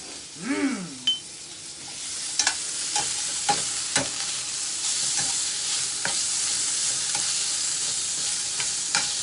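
Precooked green beans and mushrooms sautéed quickly in a hot pan, a continuous close sizzle with scattered utensil scrapes and clinks.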